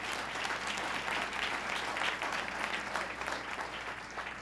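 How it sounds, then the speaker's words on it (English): Steady applause from an audience at a government announcement event for a women's building, a dense wash of clapping held at an even level throughout, heard from some distance. "Let's give them a round of applause."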